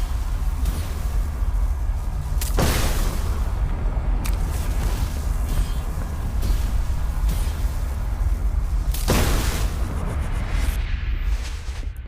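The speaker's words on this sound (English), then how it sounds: "It's satisfying to watch these things explode" Crystals blasted by a crystal musket in the Blade and Sorcery video game burst in a dense, continuous din, with two sharper broadband explosions standing out early and near the end over steady loud rumble.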